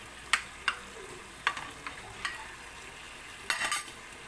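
A spoon stirs potatoes into chicken adobo simmering in a pot. A few sharp scrapes and clinks against the pot stand out over a faint, steady sizzle, with no voices.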